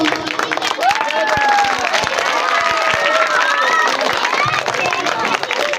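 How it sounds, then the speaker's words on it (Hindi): Steady applause and scattered cheers from an audience after a children's Christmas performance fill the room, with dense clapping and murmuring voices throughout, a few high whoops rising above the crowd. "बहुत शुक्रिया, जोरदार तालियां दे।"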